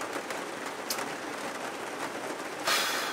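Rain falling on a caravan roof, a steady fine patter of drops heard from inside, with a brief louder gust of drumming near the end.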